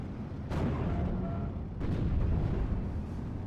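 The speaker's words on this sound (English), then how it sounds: "We'll clean up a Panzer Grenadier unit after receiving so much HE and artillery fire." Heavy artillery and high-explosive shell fire in a WWII strategy video game, two deep booming blasts rolling over a continuous rumbling battle din, with no voices.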